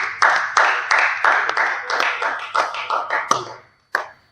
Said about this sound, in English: A round of applause to Rutherford,